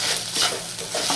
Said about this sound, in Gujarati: હવે એમાં આપણે નાખીશું જીરું અને જીરુંને આપણે તતડવા દેવાનું છે